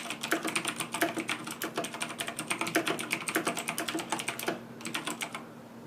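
Steady, fast clicky typing on a Razer BlackWidow Chroma mechanical keyboard, close and continuous, slowing slightly near the end.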